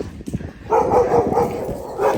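A dog barks in a small seaside town street in winter: a quiet yip first, then a close run of loud, repeated barks in quick succession lasting to the end, with no talking.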